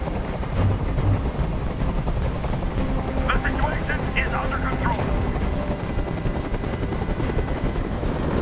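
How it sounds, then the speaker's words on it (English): Helicopter hovering overhead in the video game Detroit: Become Human, a constant loud rotor thrum filling the scene while someone speaks briefly over it. "I can't stand that noise anymore. Tell that helicopter to get out of here."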